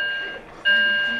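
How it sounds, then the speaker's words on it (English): A building fire alarm sounds a high, steady electronic tone that drops out briefly and then resumes loudly, with a voice faintly underneath. "there's a fire alarm going on"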